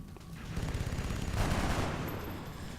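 Soldiers open fire in the video game XCOM Classic, a dense, rapid burst of gunshots that rolls on for about three seconds at steady loudness, peaking midway, with no talk over it.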